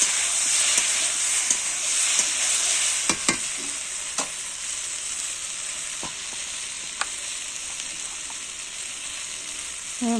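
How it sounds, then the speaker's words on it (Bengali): A paste of ground ginger, cumin and radhuni spice fries in a pan, a steady bright sizzle with occasional scrapes and clinks of a spoon stirring, close and continuous throughout. "এবারে যে মশলাটা বেটে রেখেছিলাম আদা জিরে রাঁধুনি, সেটা একটুখানি দিয়ে নাড়াচাড়া করে মশলাটা একটু কষিয়ে নেব"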